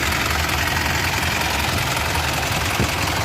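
Mitsubishi L200 Triton 3.2 diesel engine idling, heard up close from beneath the truck as a steady, dense mechanical rumble with a continuous broadband clatter and no talking.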